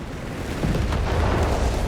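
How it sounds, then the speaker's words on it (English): Mortar and artillery fire in Company of Heroes 3, with dense, continuous booming blasts rolling one into another for a couple of seconds with no pause. "Mortar fire there being directed here from the artillery officer"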